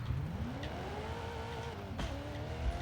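A Mitsubishi Eclipse engine in the Forza Horizon 5 video game, revving hard in second gear with a climbing, whining pitch that drops back and climbs again, close and steady with no talk.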